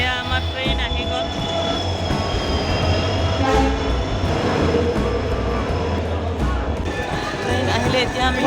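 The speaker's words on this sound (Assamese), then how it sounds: "এয়া আমাৰ ট্ৰেইন আহি গ'ল।" A passenger train pulls into a crowded Assam station. Its horn blares in long tones over heavy rumbling wheels and clanking wagons, loud and close, with crowd voices underneath.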